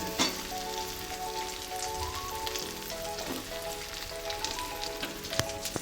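Eggplant pieces dropped into hot oil in a pan for a spicy masala, giving a steady, close crackling sizzle with bursts of popping and a faint tonal hum behind it, no voices.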